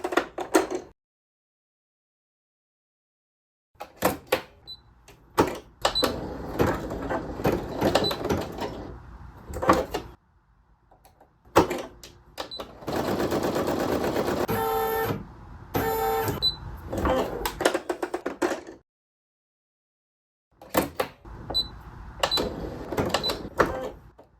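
An embroidery machine stitches a design in loud, rapid mechanical bursts separated by silent pauses, with one longer steady run in the middle, and no voices.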